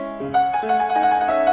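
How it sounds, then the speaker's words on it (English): A piano plays a short run of bright, clear notes in quick succession, close and moderately loud, with no voices. "This is a piano."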